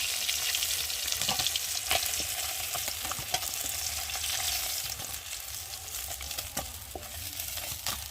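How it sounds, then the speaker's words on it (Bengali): Tilapia fish pieces fry in hot oil in a karai, a steady broadband sizzle running throughout, with occasional light clinks of a spatula against the pan, close and fairly loud. "এখানে অল্প অল্প করে ভেজে নিই"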